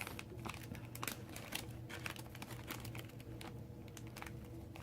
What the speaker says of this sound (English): Acetate is a little tricky, so sometimes you might have to give it a little poke.